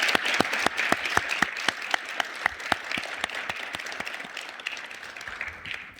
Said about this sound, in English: Will please join me in a round of applause for the Quantum PNT System project leaders and the team here